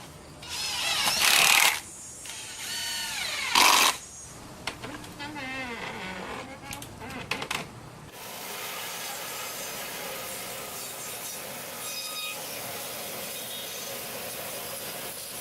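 A homemade sawmill starts up in short bursts with scraping and rubbing sounds, then settles into a steady, even running drone that carries on for the second half of the clip.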